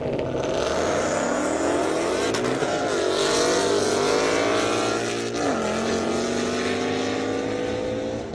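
An 8,000-horsepower Ford Mustang drag car at an airstrip drag event roars steadily with a high, loud engine whine that climbs in pitch as it accelerates, briefly dipping midway before surging on.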